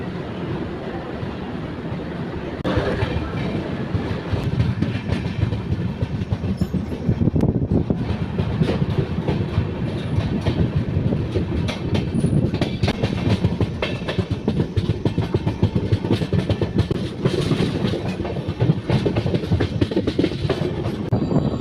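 Riding aboard the 12756 Bhavanagar-Kakinada Port superfast express, the carriage gives a steady, loud rumble with rhythmic clickety-clack of wheels over rail joints, rising in intensity after a quieter opening and continuing throughout.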